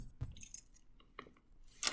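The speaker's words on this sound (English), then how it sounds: "You see these keys? These are keys to all different apartments." Keys on a large apartment key ring jangle and clink faintly in a few short metallic bursts, close by and with quiet gaps between them.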